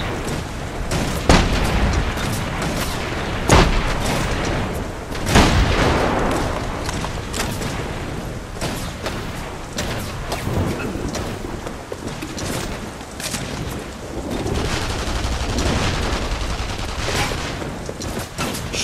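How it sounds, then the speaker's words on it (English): Sustained gunfire in the video game The Saboteur, dense bursts of rapid shots and heavy booms, loud and continuous with occasional sharper cracks throughout. "Gunfire!"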